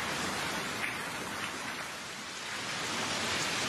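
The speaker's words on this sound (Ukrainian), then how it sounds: "На пляжі Аркадія під час дощу б'ють фонтани брудної води." Steady rain pours on Arkadia beach in Odesa during an August downpour, a dense, even hiss that stays constant throughout with no voices.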